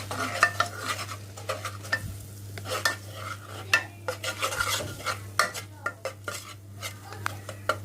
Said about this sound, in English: once the butter has melted, I'm going to add 3 tablespoons of plain flour, 2 and 3. Just going to mix this.